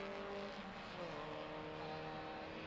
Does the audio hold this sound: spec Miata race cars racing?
yes